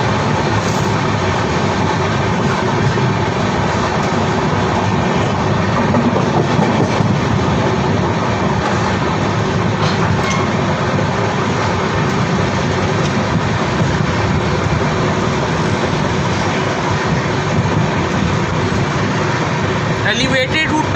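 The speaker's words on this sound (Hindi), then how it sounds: "हमारी ट्रेन मणिनगर स्टेशन पहुंचने वाली है।" The 15045 Gorakhpur–Okha Express runs on rails near Maninagar station, a steady loud rumble and rattle from inside the moving train, with a voice talking over the noise throughout.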